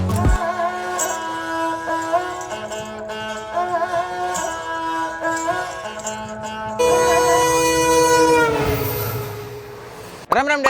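Passenger train in motion, a steady rumble with strong tonal hum and a sustained horn-like tone throughout, close and loud, rising into a brighter, busier stretch near the end.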